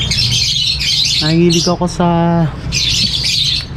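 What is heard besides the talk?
aviary birds squawking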